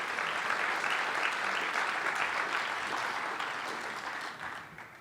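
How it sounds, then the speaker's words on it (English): An audience applauds at a college president's State of the College address, a broad, sustained wash of clapping that holds steady and slowly fades near the end. "That's worth applause, I think."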